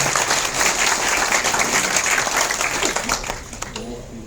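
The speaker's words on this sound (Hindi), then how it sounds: "एक बार उनका जोरदार तालियों से स्वागत करें।" A crowd at a Red Cross gathering gives a guest a loud welcoming round of applause, thick and continuous throughout, easing off slightly near the end.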